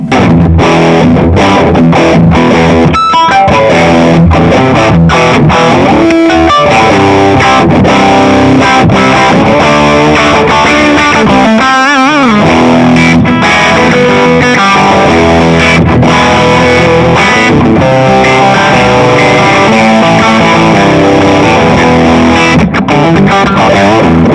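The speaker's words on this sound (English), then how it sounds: "Single note and chord with the reverb on." Loud electric guitar through a Ratajczyk Extreme Reverb Mk 3 amp plays single notes and strummed chords, drenched in reverb and effects, with a thick, sustained, shimmering tone throughout.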